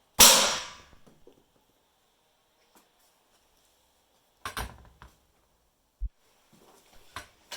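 A small homemade air cannon charged to 40 psi fires an earplug with one sharp, loud pop at the very start, followed by near silence and a few faint, scattered knocks and handling clicks.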